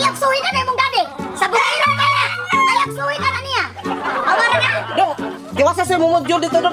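A rooster crows repeatedly and chickens cluck close by, under a steady stream of speech from adults and children.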